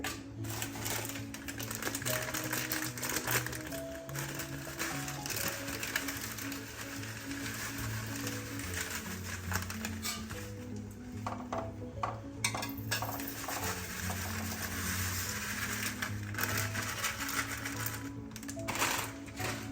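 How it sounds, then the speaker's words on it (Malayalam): Roasted vermicelli payasam being stirred in a pan, with repeated clinks and scrapes of a spoon on metal. Steady, close cooking noise runs throughout, and faint voices sit underneath. "ഞാനിത് ഇളക്കി കൊടുക്കുക കട്ട ഇട്ടാതെ നോക്കണം"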